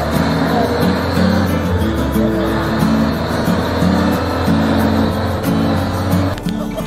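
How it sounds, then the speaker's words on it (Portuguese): A truck stuck in mud on a rural work site revs its engine hard, a loud, continuous throbbing roar with rising and falling pulses close by, ending in a brief shift near the end. "Caminhão atolado"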